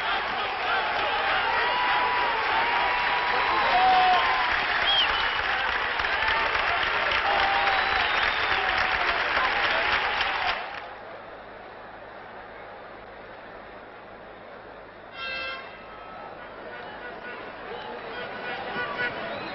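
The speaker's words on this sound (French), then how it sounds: "la foule mue son excitation vengeresse en cris anodins quoique bruyants" Large crowd roaring and shouting in packed football stadium stands at the Mediterranean Games, a loud sustained din for about ten seconds that then drops to a distant murmur with a brief swell.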